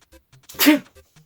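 A single sharp sneeze bursts out between quiet background sounds.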